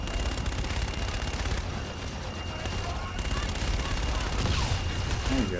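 Dense, continuous gunfire and fire-support barrage in the video game Call of Duty: Infinite Warfare, a thick wall of battle noise with voices talking over it throughout.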